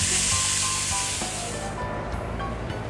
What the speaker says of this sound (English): Quick browning. Doing batches. I'm gonna get these all browned up.